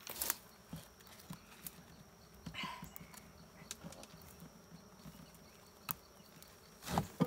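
Wild honeybee swarm inside an abandoned top bar hive, a faint, continuous buzzing hum with scattered sharper bumps and rustles of handling nearby, no voices.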